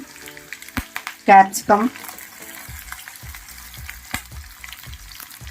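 Cumin seeds, green chilies, peas and grated carrot frying in hot oil for bread bonda filling, a steady close sizzle with stirring taps, while someone speaks briefly over it.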